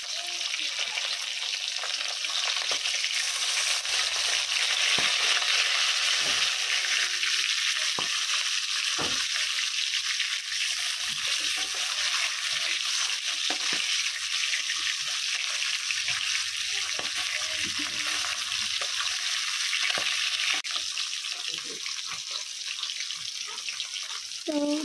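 Fish frying in a pan, a long steady hiss and spatter of hot oil heard close by, dotted with occasional sharp crackles and faint clinks, without anyone speaking.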